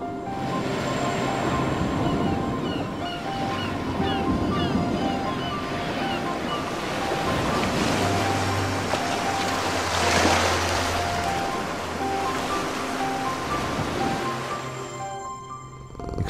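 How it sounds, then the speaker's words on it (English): Surf breaking on a beach at dusk, a steady wash of waves with light wind across the microphone, loud and continuous throughout without speech. "Hear the sound of dusk on the beach."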